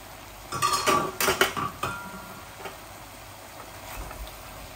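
Food stirred and fried bhuna-style in a pan, a cluster of scraping, clinking utensil strokes against the pan over a soft steady sizzle, then quieter frying.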